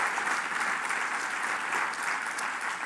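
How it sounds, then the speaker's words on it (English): An audience at a realtors' business meeting gives a sustained round of applause, even and dense clapping filling the room for about three seconds. "Can we all just give her another round of applause?"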